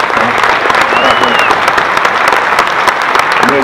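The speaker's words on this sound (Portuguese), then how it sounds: "eu queria pedir uma salva de palmas para essa galera" A crowd of about 315 people at a bar-industry talk gives a loud, dense round of applause that runs continuously throughout, with a voice faintly audible over the clapping.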